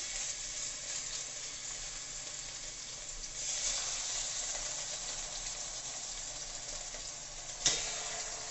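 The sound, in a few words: beef strips sizzling in a pan for pepper steak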